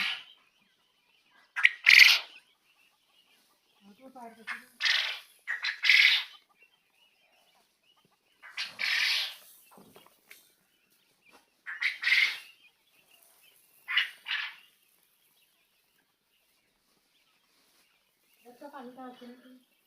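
Bursts of chirping and squawking from many small quails come in short clusters across a breeding-farm pen, with a brief voice murmuring between calls.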